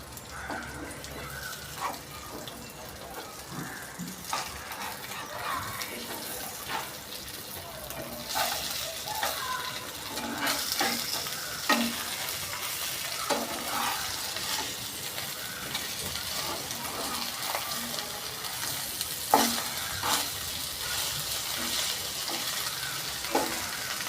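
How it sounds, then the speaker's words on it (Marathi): Konkani-style halwa (pomfret) fish frying in a pan with kokum, flipped partway: a continuous soft sizzle and hiss with scattered clinks and scraping, at moderate loudness, with no speech heard. "आपला हलवा आहे ना एक साईडने पूर्ण तयार झालेला आता त्याला पलटी मारूया"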